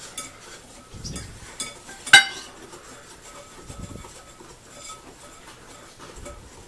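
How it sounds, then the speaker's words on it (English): A whisk stirring no-cook playdough mixture in a bowl, soft scraping swirls with one sharp metallic clink, close and fairly quiet. "it's going to get kind of hard to stir with that whisk"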